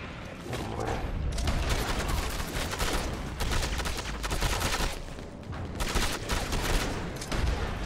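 Dense gunfire from a Red Dead Redemption 2 shootout, with rapid overlapping shots and volleys rolling continuously at close range, loud and sustained throughout.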